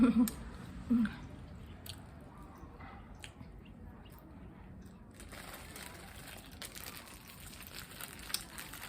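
Close, wet chewing of spicy pounded bean salad eaten with sticky rice, soft squishy mouthfuls repeating irregularly at low volume, with a couple of louder bites near the start.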